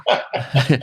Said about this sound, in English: I think that's my dog.